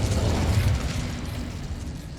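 An Incendio fire spell cast in a wand video game bursts with a loud, fiery whoosh and low rumble that gradually fades over about two seconds.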